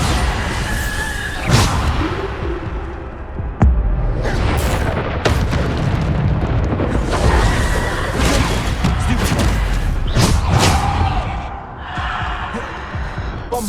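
Repeated Bombarda blasting spell explosions in the video game Hogwarts Legacy, heavy booms and crashing bursts over a dense, loud rumbling battle bed lasting many seconds.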